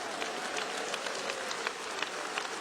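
Steady, dense clapping from a church congregation during a service in São Paulo, a continuous patter of many hands with occasional sharper claps, at moderate loudness and with no talk.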